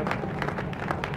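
Glitching applause effect in the flight simulator Infinite Flight, a faint, steady patter of crowd clapping looping on and on at low volume behind a busy background hum.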